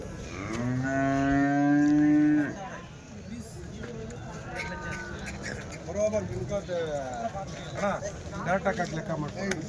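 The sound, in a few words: Jersey calves mooing at a cattle market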